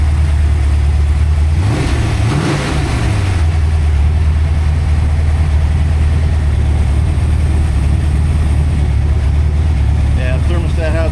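A freshly built 347 stroker V8 fires up for the first time, catching with a surge of revving around the second and third seconds before settling into a loud, steady rumbling idle that runs throughout.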